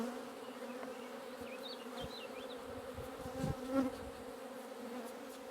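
Honeybees buzz steadily on a hive frame during a heavy nectar flow, a dense close droning hum with a few louder passes near the end.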